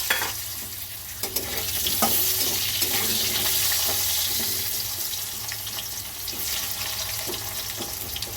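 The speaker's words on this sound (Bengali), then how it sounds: "আলুগুলো একটু লাল লাল করে ভাজা হোক।" Potatoes fry in oil in a kitchen, a loud continuous sizzle and crackle lasting several seconds, with occasional stirring clicks and no talking.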